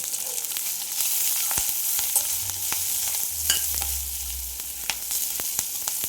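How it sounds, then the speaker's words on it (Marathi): Green chillies sauté with garlic in a hot pan, a loud continuous sizzle broken by frequent sharp spatula clicks and scrapes, close up with no voices. "लसूण परतला की त्यात मिरची आपण टाकून परतून घेऊया. अगदी 2 मिनिटं परतून घ्यायचे."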